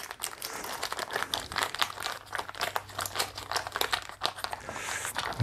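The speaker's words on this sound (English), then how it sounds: "I'm just going to give this a bit of a squeeze and kind of loosen everything up in there." A plastic packet of turbo carbon for a sugar wash is squeezed and worked by hand, giving a steady run of close, loud crinkling and crunching with no talk.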